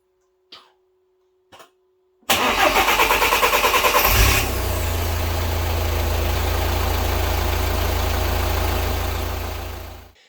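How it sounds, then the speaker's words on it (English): A couple of faint clicks, then a 2.0 TDI diesel engine cranks briefly after a fuel filter change and catches, settling into a steady, rattly diesel idle that continues until a sudden cut. "let's confirm now that everything is bled properly and the engine starts."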